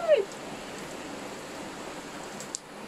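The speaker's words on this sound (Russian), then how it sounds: "Биробиджан, ливень." A heavy afternoon rain downpour falls in Birobidzhan onto a garden with tomato plants. It is a steady, even wash of hiss, fairly faint and unbroken, with a brief tap near the end.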